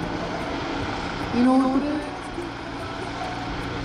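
An AW129 Mangusta military attack helicopter flies at the Jesolo air show, a steady broadband engine and rotor roar lasting the whole stretch, with a brief spoken word from an announcer over it.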